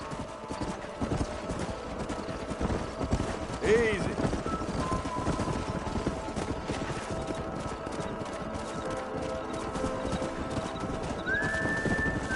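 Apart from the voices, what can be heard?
horses in the video game Red Dead Redemption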